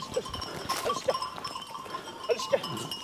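Sheep in a mixed flock of about fifteen being sorted on a farm, with scattered bleats and animal calls rising over a steady outdoor background.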